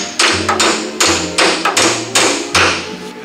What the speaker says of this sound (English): Now we can go ahead and knock that insert out of there with our hammer.